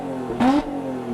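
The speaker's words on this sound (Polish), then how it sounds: "Nawet jeżeli nie mamy włączonego tego bypassa w wydechu, to zobaczcie, słyszycie jak świszczy" Lotus Evora engine giving a short rev, a brief rising burst with a thin whistling tone from the exhaust, close and alone against a low idle.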